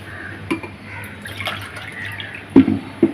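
Water splashes and drips into a pressure cooker for rasam rice in a kitchen, light trickling with a few sharper splashes near the end, close and moderately loud, no talking.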